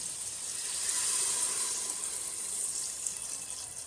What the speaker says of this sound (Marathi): मटणाचा थोडा रंग बदलला की त्यात आपण गरम पाणी घालून येऊ